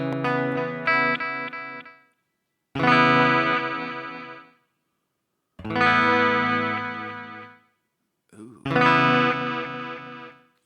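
Electric guitar through a Strymon DIG delay with modulation and a DMB Stellar Drive overdrive, playing four loud, lush sustained chords, each ringing out and decaying before a short gap, with a chorus-like shimmer and echo tails.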